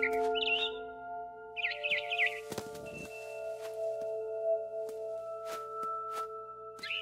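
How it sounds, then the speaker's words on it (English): Barn swallow chirping in the video game What Remains of Edith Finch, a few short bright twittering bursts over steady tonal game ambience and soft clicks. "Then I heard chirping outside my window. It was a barn swallow going back to her nest."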